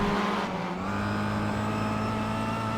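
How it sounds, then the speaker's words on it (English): Race car in a sim racing event on the Nürburgring Nordschleife, its engine droning loud and steady with a rising tonal whine and a hint of tire noise, close and continuous. "the sound of those tires"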